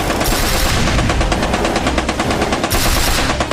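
Sustained rapid automatic gunfire in a video game shootout, loud and continuous with dense overlapping shots and no pause.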